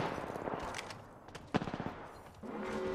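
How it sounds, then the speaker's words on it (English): Gunfire in the Apex Legends video game, a quick burst of rapid automatic shots in the middle, with scattered weapon and gameplay noise before and after. "Opening fire."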